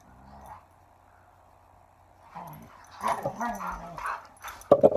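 Dogs indoors whimper and let out short yips, high and close, rising in intensity near the end, with someone talking in between.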